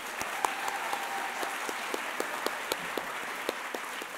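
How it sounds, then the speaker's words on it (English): An audience at the Arkansas 4-H State O-Rama opening ceremony applauds state officer candidates. Steady crowd clapping is heard with individual sharp claps standing out in a quick, even rhythm, fairly soft overall. "Let's give all of these state officer candidates a round of applause."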